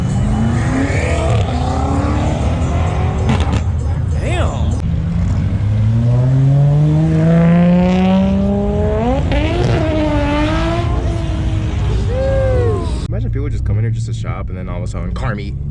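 A McLaren supercar revs loudly nearby, its exhaust note rising and falling in sweeping pitch climbs over a steady engine drone, while people exclaim and talk excitedly over it.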